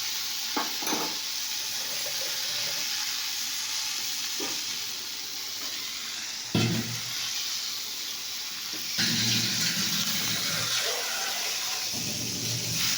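Water poured into a pan of frying spices and chilies on the stove. A steady, fairly loud sizzle builds to a brief surge and a rushing hiss near the end, heard close.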